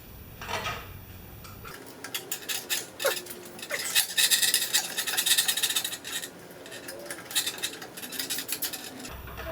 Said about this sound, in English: tighten that up with our super wrench. 7/16.